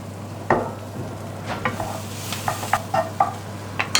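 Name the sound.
onions frying in a pan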